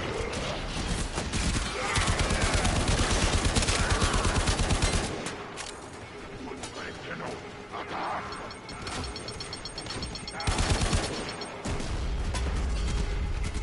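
Rapid automatic weapon fire from the shooter game Warframe, a dense fast-cycling burst pattern that runs in loud stretches, drops away briefly, then returns with more sustained firing and mechanical clatter.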